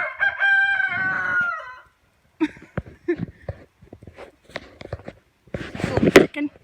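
A rooster crows loudly and nearby at a rural animal sanctuary, followed by scattered clucks and shuffling, with a person talking over the later part.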